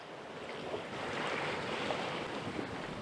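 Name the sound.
sailing ship under wind at sea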